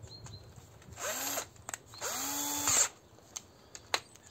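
A cordless drill whirs in two short bursts as its chuck is spun to tighten and then release, each rising and falling in pitch, with light clicks and handling taps between.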